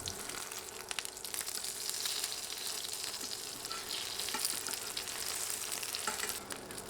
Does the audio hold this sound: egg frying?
yes